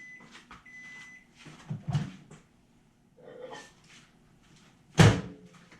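A short clunk of a small appliance door opening, followed by a sharper click, with quiet handling and shuffling noises around it.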